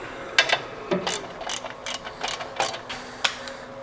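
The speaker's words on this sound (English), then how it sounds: "Snug them back with ratchet." A ratchet snugs bolts during a torque converter install, making a series of about ten sharp clicking strokes in an irregular rhythm, close and clear over a quiet garage background.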